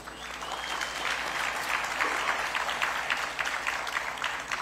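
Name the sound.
audience applause for Suzuki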